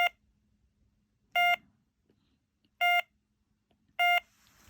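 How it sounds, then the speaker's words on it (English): A 1998 Furby's speaker beeping in diagnostics mode: three identical short electronic beeps at roughly even intervals, loud and close against near silence, followed by a faint hiss. "The speaker will test by buzzing."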